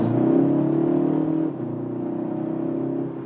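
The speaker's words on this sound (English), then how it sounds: "be in 4th gear now and show you some acceleration 75 to 100" Kia Ceed GT with a 1.6 liter turbo engine pulling hard in 4th gear, a loud steady engine drone and exhaust note holding close and continuous, dipping briefly at mid-point before carrying on.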